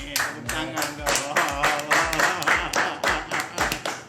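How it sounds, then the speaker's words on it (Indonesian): Rhythmic hand clapping on an Indonesian sports talk show, a run of roughly a dozen sharp, close claps in a steady beat, with a voice speaking briefly over them. "Tepuk tangan dong"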